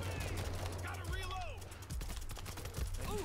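Rapid gunfire from the video game World War Z, in a Jerusalem level, crackling in bursts through the whole stretch, mixed with game effects and speech.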